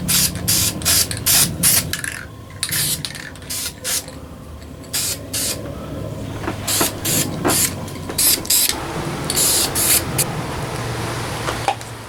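Spray paint hissing from an aerosol can onto a custom Nintendo GameCube, in repeated short bursts of varying length separated by brief pauses, loud and close.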